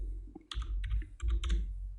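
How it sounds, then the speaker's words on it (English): A computer keyboard shortcut, Ctrl plus the space bar, pressed during editing work, heard as a few close, sharp key clicks and taps in short bursts over a low background hum. "hit Ctrl plus a space bar for search box and search for drop shadow"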